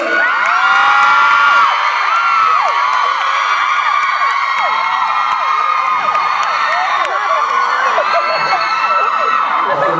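A packed concert crowd screams and cheers continuously at a Thai pop concert, a dense wall of high-pitched shrieks and whoops that stays loud for the whole stretch.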